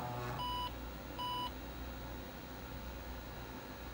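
An IBM 5155 portable computer gives two short, clear electronic beeps at startup, spaced about a second apart over a steady fan and electrical hum.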